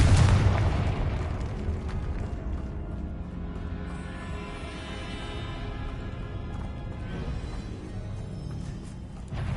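A Confringo fire spell from the video game Hogwarts Legacy goes off as a loud, close explosion with a heavy low boom at the start, then a long rumbling, crackling decay.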